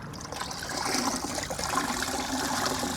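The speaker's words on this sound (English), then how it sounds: "I'm going to go ahead and dunk this back in the solution" A wash sponge is dunked and agitated against a grit guard in a bucket of Gyeon EcoWash rinseless solution, giving a continuous close sloshing, gurgling water noise at moderate volume.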